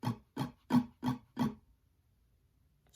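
Five evenly weighted guitar strums for a song, played without accents in a steady, close rhythm, then a quiet tail.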